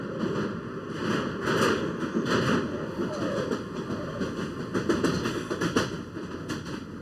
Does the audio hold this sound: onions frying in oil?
no